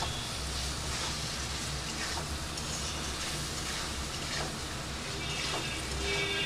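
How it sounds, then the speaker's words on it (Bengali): Ground spices for a Bengali-style mutton stew sautéing together in a pan, giving a steady, continuous sizzle and hiss with no voices. "এবার এই সব মশলা আমি একসাথে একটু কষিয়ে নিচ্ছি।"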